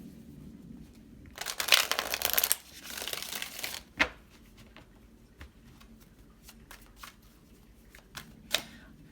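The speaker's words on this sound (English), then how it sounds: "One more shuffle." Tarot cards shuffled by hand during a pick-a-card love reading, a dense riffling burst of card flutter lasting a couple of seconds, then a few quieter taps and soft slaps of the deck with no talking.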